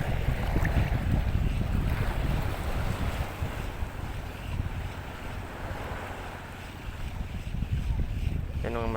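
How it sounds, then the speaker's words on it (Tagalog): Wind gusting over open water aboard a small fishing boat, a steady broadband rush with low buffeting against the microphone, waves slapping underneath throughout, close and loud. "Medyo ano na yung hangin."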